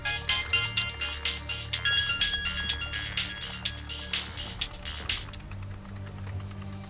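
A phone rings with a bright, repeating electronic tone pulsing steadily for about five seconds before stopping, leaving a quiet background hum.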